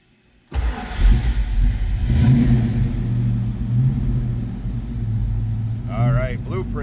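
A 1969 Ford Mustang Fastback with a blueprinted 302 V8 and a five-speed manual fires up suddenly and rumbles into a loud, throaty idle with a few blips of revving, while someone talks over it.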